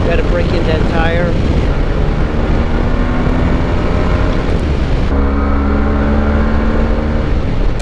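A Yamaha Tmax scooter rides at moderate speed as the throttle is eased off and rolled back on, giving a loud, continuous engine and wind roar with rising and falling pitch, plus a noticeable shift in tone partway through.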